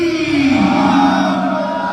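A large gathered crowd at a religious celebration bellows a takbir slogan in unison, a loud sustained collective shout that fills the space for about two seconds.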